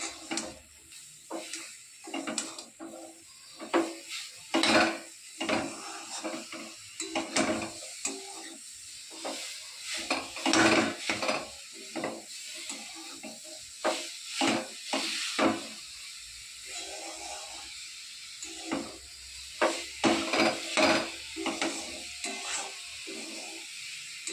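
Grated coconut and jaggery being stirred in a pan, with a long run of soft scraping strokes against a faint hiss, steady and close.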